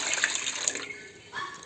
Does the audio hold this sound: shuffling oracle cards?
no